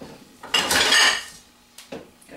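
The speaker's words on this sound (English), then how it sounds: "so I gotta get my spatula" Metal clatter of pans and utensils as a spatula is pulled from among cookware while cooking stuffed tilapia, one loud burst of clanking followed by a couple of lighter knocks.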